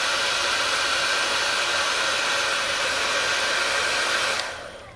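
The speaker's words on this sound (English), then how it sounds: "I'm going to take my hairdryer." A hair dryer blowing steadily on an iPod mini, a loud, close, even rush of air that cuts off near the end.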